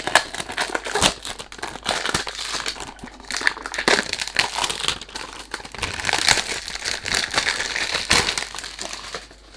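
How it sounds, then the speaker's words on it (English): Unboxing of a 100ml bottle of vanilla eau de parfum, with close, continuous crinkling and crumpling of cardboard and wrapping, irregular rustles and sharper tears throughout, no talk. "When you do unboxing, unfortunately you can't do anything about the noise."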